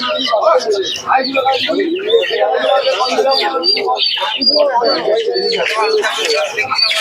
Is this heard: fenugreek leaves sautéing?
no